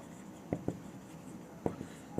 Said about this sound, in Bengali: এখন আমরা লিখব